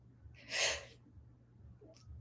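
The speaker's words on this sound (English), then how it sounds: "I have to sneeze." A single sharp sneeze bursts out close by, preceded by a quick intake of breath, then quiet room hum with a faint breath at the end.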